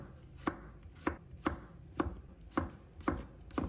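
A knife chopping garlic cloves on a board, with seven evenly spaced sharp, close thuds about half a second apart and no talk.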